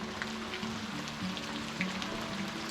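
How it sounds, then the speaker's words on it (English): Steady rain drumming on a tent during fall canoe camping in the Adirondacks by Long Lake, a soft, even patter with scattered slightly louder drops, heard from inside and fairly quiet throughout. "it looks like this rain has no plans of letting up at the moment"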